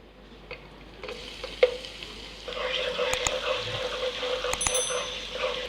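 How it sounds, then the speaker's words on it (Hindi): Garlic and ginger dropped into hot ghee with cumin seeds and stirred in a pan: a quiet start, then a loud, steady sizzle and crackle with occasional scrapes of the spoon. "हल्का सा मिक्स करने के बाद हम इसके अंदर लहसुन और अदरक डाल देंगे।"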